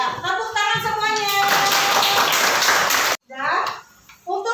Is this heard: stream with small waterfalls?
no